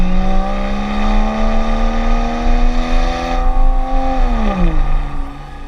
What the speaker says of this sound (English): Off the line, it's got plenty of get up and go.